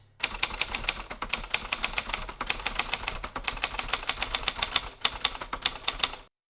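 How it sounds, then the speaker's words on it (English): Rapid, steady keystrokes on a manual typewriter clatter alone and close up, a dense run of sharp clicks with brief pauses, including one near the end, probably for a carriage return. "Walking back over to his typewriter, ignoring Bugsy and his gang, and feeling just a little guilty about Dolly, JJ the writer began typing."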